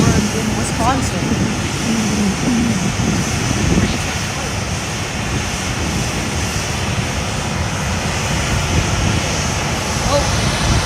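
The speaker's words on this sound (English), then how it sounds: "this aircraft is coming from Stevens Point Municipal Airport" An airplane flies low near Fort Lauderdale airport, filling the whole stretch with a loud, steady, close engine roar and broad rushing noise that barely changes in level.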